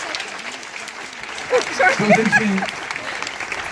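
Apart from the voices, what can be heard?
crowd applause for Diane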